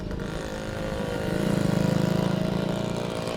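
Small Yugoslavian automatic moped engine idling close by after being started, a steady low putter with a regular pulsing rhythm that swells slightly louder partway through, no voices.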